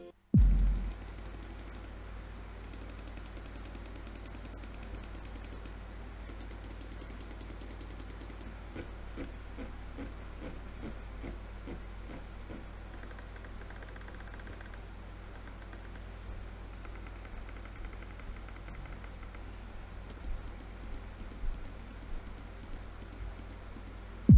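Mouse buttons are tested with long runs of crisp, close clicks in rapid, uneven bursts, steady at moderate level for the full stretch, with no voices.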